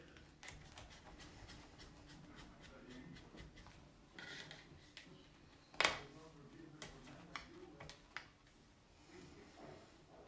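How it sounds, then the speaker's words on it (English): A knife saws through a loaf of spelt bread in a quiet series of rasping, rhythmic strokes with scattered crisp crackles and a few sharper knocks, faint and close. "Now I'm gonna cut it and I'll show you how it look like"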